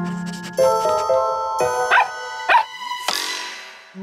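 A cartoon dog barks in a few bright, yappy bursts over chiming music, loud and close, with a short whimpering yip among them.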